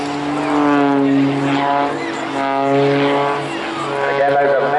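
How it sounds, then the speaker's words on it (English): Muscle Pitts aerobatic biplane with a big six-cylinder air-cooled engine, growling loudly at an air festival with pitch that rises and falls through manoeuvres, under an announcer's steady commentary. "you can hear the growl from the engine. Big, 6-cylinder, air-cooled engine."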